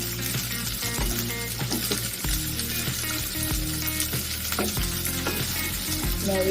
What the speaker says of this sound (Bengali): ভিন্ডিগুলো একটু ভাজা ভাজা হবে